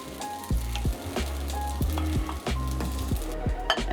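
Japanese fried rice (chahan) sizzles in a pan as it is tossed repeatedly, each toss bringing a low thump and a rush of crackling in a brisk, regular rhythm close by.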